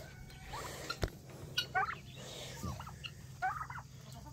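Domestic turkeys on a homestead gobble in several rattling bursts, some close and some farther off, over a quiet outdoor background with a sharp knock partway through.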